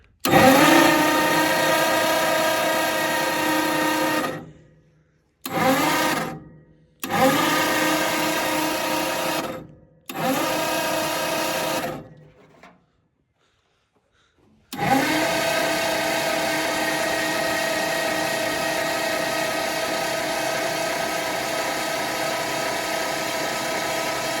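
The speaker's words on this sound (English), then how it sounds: "We'll see what happens when I crank it over." Starter cranking over the engine of a 1939 Ford tow truck that has sat for decades, several loud bursts of grinding, whirring turnover separated by short pauses, then one long sustained crank; no voices.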